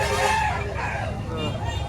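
Chickens and roosters at a busy poultry market in Lipa, Batangas, crowing and clucking across a dense, steady crowd din with voices mixed throughout.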